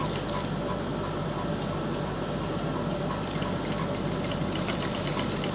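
A sewing machine stitches lace onto fabric with a steady, continuous motor whir and fine mechanical chatter that holds close and even throughout.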